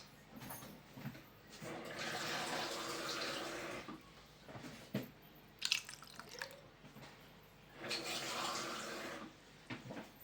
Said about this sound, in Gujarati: હવે એમાં આપણે પાણી એડ કરીશું 2 ગ્લાસ.